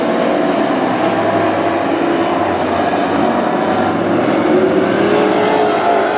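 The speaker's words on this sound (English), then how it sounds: "Sobraski and Moss are going to go door to door down the backstretch" WISSOTA Super Stock race cars roar around the North Central Speedway oval, a loud, steady, continuous engine drone that fills the whole stretch without pause.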